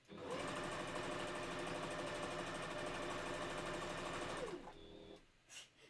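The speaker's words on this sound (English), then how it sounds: "Sorry about the sewing machine sounds." A sewing machine stitches rapidly and steadily for several seconds, then winds down and stops, leaving a few faint rustles.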